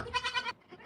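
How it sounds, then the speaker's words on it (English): Goats bleating inside a barn during a blizzard in the far north, one long wavering bleat followed by a shorter, fainter call, close by with no talk. "I got 2 goats in there."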